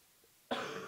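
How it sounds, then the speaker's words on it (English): A single sharp cough bursts out after a quiet pause and rings on loudly and close, with a raspy, wet tail as the person pauses mid-commentary on a Magic: The Gathering booster box opening. "I know it's real sexy to hear me cough and snivel"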